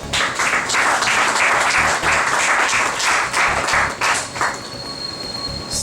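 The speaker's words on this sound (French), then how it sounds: "Et je vous demande de l'applaudir." Loud, dense applause from an audience at the launch ceremony of the 10th Vive Haïti Livre book festival, with steady crowded clapping that thins out and fades near the end.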